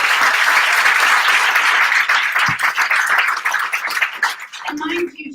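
A room of attendees at the Persian Women In Tech London one-year anniversary event in 2018 claps loudly and continuously; the applause fades in the last moments and a brief voice or tone follows.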